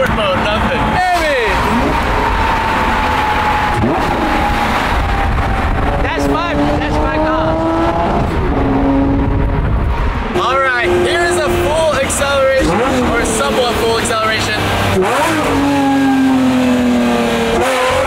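Lamborghini engine revving on a cold start outside sport mode, loud close rising and falling blips and sweeps of engine pitch, with excited voices talking over it.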